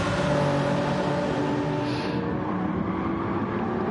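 Mid-engine Ferrari GT race cars roar along a narrow track in a racing game, a steady loud engine drone with layered tones that eases slightly as the cars pull away.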